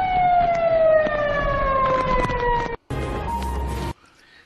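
Emergency vehicle sirens wail loudly and steadily in the aftermath of a typhoon, their rising and falling tones sustained across the street scene before a brief cut to a noisier, different segment.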